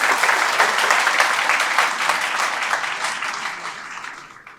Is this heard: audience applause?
yes